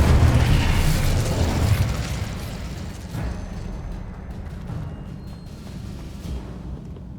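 An Incendio fire spell in Hogwarts Legacy erupts as a loud, whooshing burst of flame, strongest at the start, then fading into a lingering crackling rumble.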